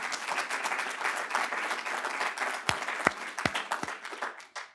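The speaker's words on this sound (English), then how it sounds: "let's give him a round of applause" An audience at a guaranteed income program panel event applauds the mayor, a moderate crowd clapping steadily, with a few sharp, distinct claps standing out near the end as the applause thins.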